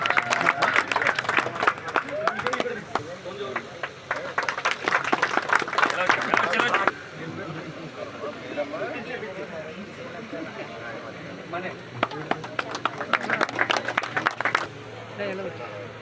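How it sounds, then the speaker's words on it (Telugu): Crowd applause at a political party joining event, with bursts of clapping rising and fading in waves over a murmur of voices and background talk. "దయచేసి చప్పట్లు కొట్టండి"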